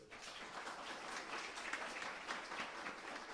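Faint, distant applause from a church congregation during a sermon, a sustained mass of clapping with slight swells, heard alone.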